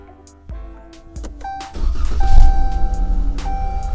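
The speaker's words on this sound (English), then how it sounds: "Alright, so I get inside like I'm ready to leave, and I start the car." A Chrysler or Dodge car starts: a few clicks and chimes, then the starter cranks and the engine catches and settles into a loud idle, with electronic warning chimes sounding over it.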